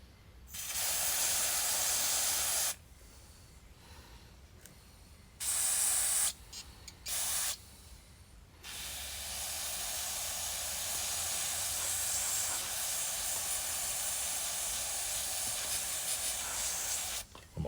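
Short aerosol bursts of penetrating lubricant hiss onto frozen bolts on an old Honda Big Red front rack, with two long sprays, several quick ones, then a long continuous spray, all close and alone.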